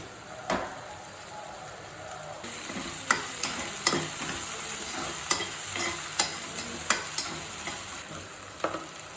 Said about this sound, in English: keep the lid, cook in low flame for 2 minutes